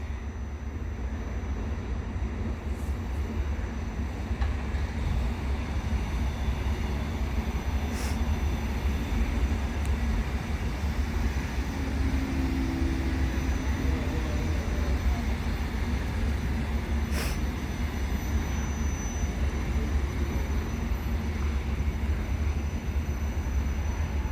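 A Regio electric multiple unit, class ED74, heading to Wrocław rolls past at a station, a steady, fairly distant rumble that holds evenly throughout with no speech.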